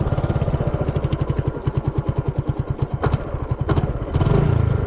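A Suzuki GZ250 motorcycle engine idles close by with a rapid, even putter of steady beats, which swells slightly in the final second.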